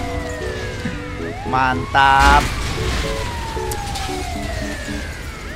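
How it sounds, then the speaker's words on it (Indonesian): Wailing ambulance siren in the video game GTA V, a steady rising and falling tone sweeping throughout, with in-game engine noise, someone speaking briefly over it. "Ini apa ini, ambulan?"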